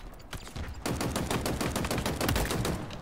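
Gunfire in the video game Halo Infinite, rapid automatic bursts cracking in quick succession, getting louder and denser partway through, with no talking over it.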